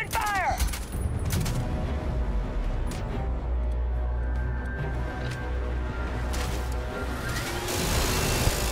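Sustained gunfire in the video game Starfield during a fight with a Terramorph, a dense continuous barrage with sharp bursts, heard alone at steady loud level.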